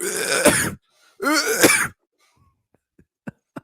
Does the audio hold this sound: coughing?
yes